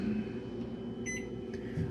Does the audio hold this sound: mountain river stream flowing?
no